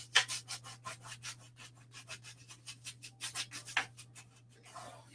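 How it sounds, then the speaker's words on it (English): Acrylic paint is scraped onto a canvas with a painting tool in a quick run of short rhythmic rasping strokes, close and fairly quiet, over a low steady hum. "So I'm really scraping it on, trying to get it all used."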